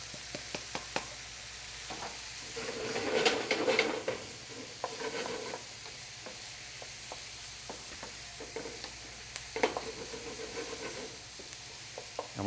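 Onions, peppers and mushrooms sautéing together in a pan for an Italian strata casserole, with a soft sizzle under repeated scraping and stirring strokes and a few louder clatters.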